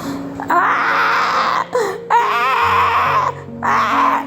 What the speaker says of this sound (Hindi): तभी उन्हें मंदिर के बाहर से किसी बच्चे के रोने की आवाज़ आती है।